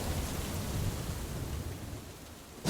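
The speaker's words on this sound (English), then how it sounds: "The rain started." Steady rain hiss with a low rumbling undertone in a narrated horror story, holding evenly for a few seconds before a louder burst of downpour at the end.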